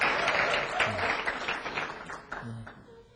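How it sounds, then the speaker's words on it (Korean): An audience in a lecture hall claps at the start of a talk by a former university president. The applause is dense and steady and fades gradually, with a faint voice briefly underneath. "여러분의 박수 소리를 들으니"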